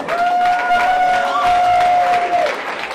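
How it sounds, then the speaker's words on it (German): Audience clapping and crowd noise at a Guitar Hero rock challenge semifinal, a dense, steady round of applause with a long sustained tone ringing over it for about two and a half seconds. "Stanley, Applaus für Stanley"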